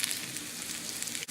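A potato sizzles steadily in a hot skillet, close and continuous crackling frying with a brief dip near the end, no talk.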